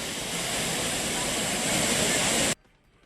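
Courtallam falls pours down as a loud, dense roar of water that fills the scene, then cuts off abruptly near the end.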